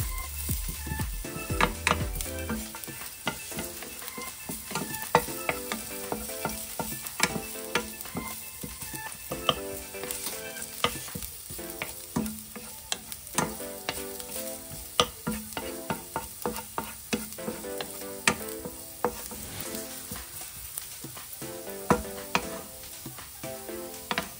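Ginger sautéing in a pan for coconut-milk tulingan fish stew, with a continuous close sizzle and frequent rhythmic scrapes and taps of a spatula stirring the pieces, no voices.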